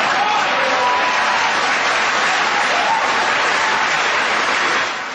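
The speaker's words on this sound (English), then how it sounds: "The audience applause is appropriate." Studio audience applause fills the space at a steady, dense level, a broad wash of clapping that holds for about five seconds before easing slightly at the end.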